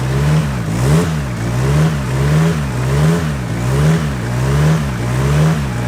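A Nissan S15 Silvia's engine revs repeatedly through a quiet exhaust, rising and falling in a steady rhythm of about six revs, close and fairly loud.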